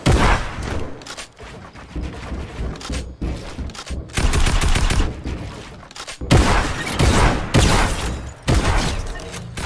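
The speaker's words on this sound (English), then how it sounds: "are you gonna shoot at me again" Dense, continuous gunfire from the Fortnite video game, with rapid bursts and heavy volleys that swell and dip in loudness across the whole stretch, loud and close with no talk.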